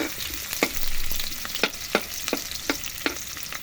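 Chicken liver and gizzard sauté with garlic and tomato in a pan: a continuous sizzle broken by sharp, regular scrapes and clacks of a stirring utensil, close and without talk.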